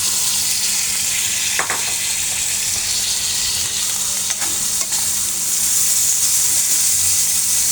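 Liver going into a pan of lightly cooked, still-raw onions, with a steady broad sizzle of frying and a few sharp stirring clicks across the whole stretch, loud and continuous with no talking.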